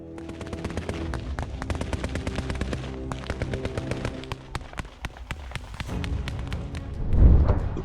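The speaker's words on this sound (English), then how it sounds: "A machine gun position, believed to have been concealed nearby, opened fire without warning" Sustained machine-gun fire from a concealed position in a combat zone in Donetsk: rapid cracking bursts of many shots, loud and close, with pauses and a heavier thump near the end, no talking.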